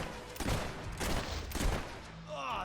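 Gunfire in the Fable III video game: a rapid burst of several overlapping shots with distant echo, moderately faint, followed by a brief higher whine at the end.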